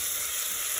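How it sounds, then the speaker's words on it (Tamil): Green chili, cinnamon and curry leaves sautéing with tomato for potato gravy, a brief, steady, close hiss of hot oil without pops or voices. "க்ரீன் சில்லி அண்டு சினமன், ரொம்ப கருவேப்பிலை, கறி லீஃப் போட்டாச்சு. போட்டுட்டு நல்லா வதக்குங்க."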